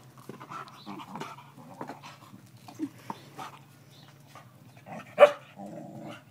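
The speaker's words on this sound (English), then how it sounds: "Oh, what a rubbish dog." A dog panting close by, with a few short growly barks and a sharper yelp near the end, set over a steady low hum.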